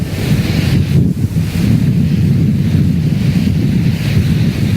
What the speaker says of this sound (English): That's ocean, folks.